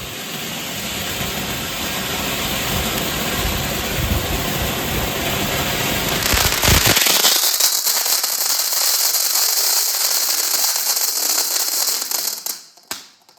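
Diwali firecrackers burst in a dense, loud crackling barrage that runs on for several seconds, then gives way to a steady high-pitched whine and low rumble before cutting off.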